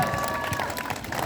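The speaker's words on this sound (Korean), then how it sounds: "여러분 힘내시라고, 반드시 당선되시라고 박수 한번 주십시오." Crowd applause at an election campaign rally in Daegu, a dense burst of clapping mixed with cheering and voices in a lively outdoor crowd.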